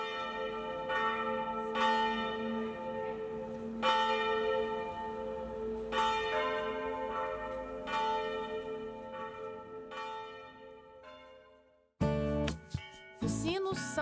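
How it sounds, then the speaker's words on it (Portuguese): Church bells ring from the towers of a historic basilica, a series of loud, resonant strikes every second or two with long overlapping hum, then a quicker, brighter cluster of peals near the end. "Os sinos, no alto das torres da Basílica Histórica, passaram a ser as vozes de uma mãe carinhosa"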